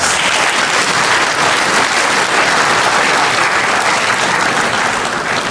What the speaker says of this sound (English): please give him or her a round of applause